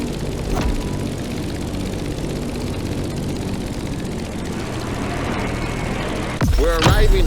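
In The Crew Motorfest, an airplane descends toward Honolulu with a steady broadband engine and airflow drone that holds evenly. The noise changes abruptly near the end, when a voice breaks in.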